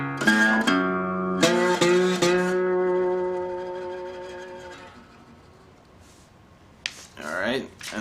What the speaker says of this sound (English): he's just playing that with the slide and the thumb